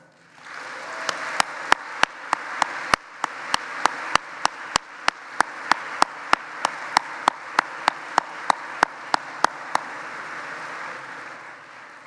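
High school students at a convocation ceremony clap in unison, a steady, evenly paced train of crisp, loud claps over a continuous bed of crowd applause filling the room for about ten seconds.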